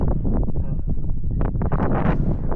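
Wind buffets and roars across the microphone in steady gusts, loud and close, with faint rustling underneath.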